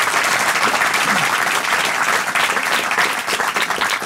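Loud, steady applause from a studio audience at a panel discussion on the health system, dense clapping that holds evenly throughout with no speech over it.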